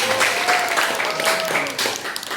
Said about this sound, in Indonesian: tepuk tangan untuk Mas Yasam